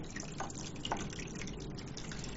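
A BluePet BLH 401 hang-on aquarium filter runs with a soft continuous trickle and faint drips of falling water, steady and quiet up close.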